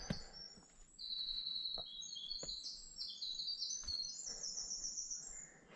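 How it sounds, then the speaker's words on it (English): A winter wren sings in the northern Maine woods of the 100 Mile Wilderness, a long, high, rapid tumbling trill of bright notes, faint and distant with a few soft thumps nearby. "That should be a winter wren,"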